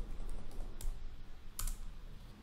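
Quiet, close keystrokes on a computer keyboard, a handful of separate clicks spaced irregularly over a faint hum.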